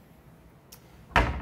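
A drawer in a hotel room at a Hampton Inn in Clayton, Missouri, is shut: a faint soft bump, then a louder close thud with a short rattle, near and alone with no talking.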